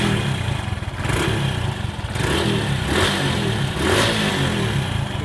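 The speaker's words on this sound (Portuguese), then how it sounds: "acabamos de colocar o escapamento original aí, como vocês estão vendo, né? Olha o som dele" Motorcycle engine running with its original stock exhaust, a muffled, steady idle with a few gentle revs, close and continuous.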